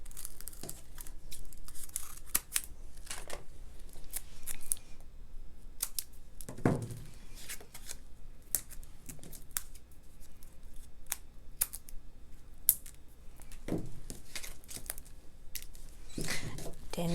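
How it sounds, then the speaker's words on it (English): Foam tape is pulled and torn off for a paper Valentine card, with crisp intermittent rips and crinkles scattered at close range against a quiet background. "We're going to need a little bit more foam tape."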